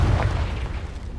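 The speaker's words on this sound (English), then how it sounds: "Allow me to put you out of your misery. Confringo!" The Confringo blasting spell in Hogwarts Legacy erupts as a loud, close, deep boom with a rumbling burst that decays quickly over a second, standing alone without talk.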